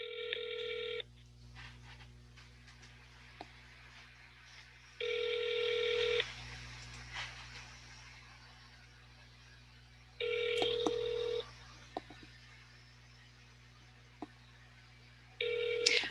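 A telephone on speakerphone, calling a congressional office in Washington, DC, rings in repeated two-second bursts about every five seconds, faint and tinny over a low steady hum, with quiet gaps between rings.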